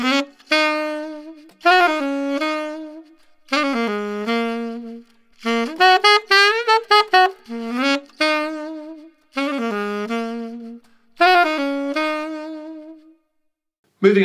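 Saxophone playing the A section, phrased melodic lines with clear harmonics, short rests between phrases and a quick run of notes in the middle, close and unaccompanied.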